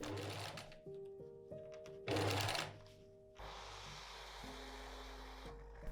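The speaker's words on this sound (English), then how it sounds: "I sew them in place by stitching over the seam of the adjacent boning channel" Sewing machine stitching seams of a silk gown, running in short mechanical whirring bursts with a steady motor hum, close and clear, with pauses between runs.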